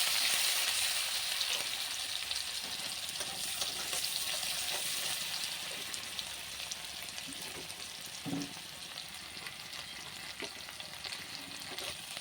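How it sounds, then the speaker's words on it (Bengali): Garlic and chopped onion fry in hot oil in a pan, a steady broad sizzle running the whole time with faint stirring clinks and one brief knock partway through, no talking. "তেল গরম করে নিয়েছি। দিচ্ছি রসুন, দিচ্ছি পেঁয়াজ কুচি।"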